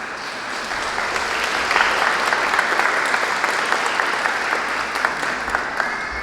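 A crowd claps steadily at a golden wedding anniversary celebration in a church setting, a dense, sustained round of applause that holds at an even level throughout, with no talk over it.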